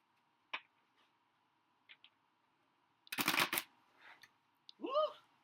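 A deck of playing cards is shuffled close by, a quick burst of riffling flutter preceded by a few soft taps, with brief voice sounds around it.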